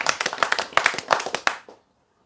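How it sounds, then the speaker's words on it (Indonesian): A lecture audience claps hands in a dense, steady run of crisp claps for about a second and a half, then stops abruptly. "Agim, tepuk tangan."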